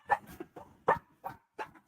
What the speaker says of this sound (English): My dogs don't like it when anybody comes to the door. So they're just in protection mode.